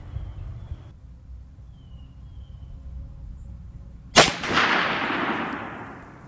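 A Savage 10 ML II muzzleloader loaded with smokeless powder fires a single loud, close shot outdoors, a sharp crack followed by a long fading rumble, with insects chirping faintly beforehand.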